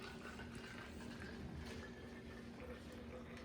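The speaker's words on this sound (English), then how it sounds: "We're gonna pour some hot water that you made into each bottle." Hot water is poured into tie-dye bottles, giving a steady, continuous rush of liquid that stays even throughout, against a faint room hum.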